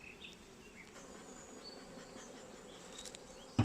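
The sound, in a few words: bees buzzing inside a beehive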